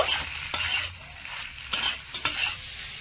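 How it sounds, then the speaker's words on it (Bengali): Cauliflower and potato frying in a pan, a steady sizzle with several sharp scrapes and knocks of a stirring spoon against the pan, close and without talk. "এবারে ফুলকপির সাথে আলুটা মিশিয়ে আলুটাও একটু ভাজা ভাজা করে নেব"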